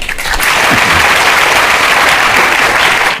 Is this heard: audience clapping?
yes